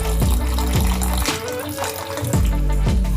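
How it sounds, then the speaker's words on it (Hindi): Half a glass of water poured into a pan of cooking matar butter paneer, a close, continuous splashing pour with repeated low gurgles. "चलिए हम आधा ग्लास पानी और ऐड कर देंगे"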